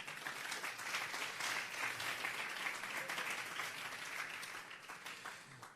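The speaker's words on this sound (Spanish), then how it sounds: "Denle un fuerte aplauso al Señor" A church congregation claps steadily and fairly softly for about six seconds, a dense even patter with no voices over it.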